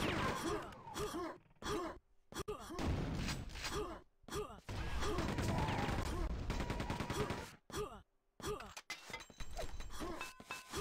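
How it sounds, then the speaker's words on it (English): Rapid chaingun bursts in a Quake 2 tournament match, dense stuttering gunfire broken by brief gaps, mixed with in-game pain grunts and other combat noises. "we can already hear that he's in pain from this chain gun"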